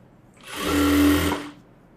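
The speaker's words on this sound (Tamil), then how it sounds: "இந்த அரேஞ்சு அப்படியே தையல் போடுறோம்" A sewing machine runs in one short burst of about a second, stitching a seam on a gathering pant, its whirring motor rising and falling away cleanly.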